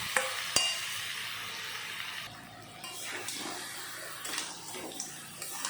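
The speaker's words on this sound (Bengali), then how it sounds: "আলু একটু সময় কষানোর পরে দিয়ে দেব ভেজে রাখা কাঁকড়া।" Potatoes and fried crab cook in spice paste in a pan with a low sizzle. Repeated stirring and scraping strokes sound close by, with a few sharp clinks near the start.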